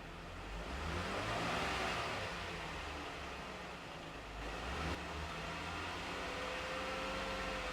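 A Jeep engine idles and then revs to about 2,000 RPM after an oil change, a steady close-up mechanical drone with broadband hiss holding throughout and a slight dip midway.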